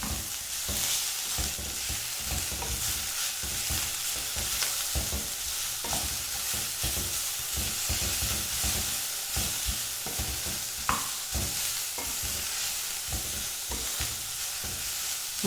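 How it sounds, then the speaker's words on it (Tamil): Chopped banana stem with grated coconut and coriander leaves sautés in a hot pan, a steady close sizzle broken by regular scraping strokes of a spoon as it is stirred, with no talking. "கூடவே நம்ம கட் பண்ணி வச்சுருக்கிற கொத்தமல்லியை சேர்த்து நல்லா வதக்கி விட்டுக்கலாம்."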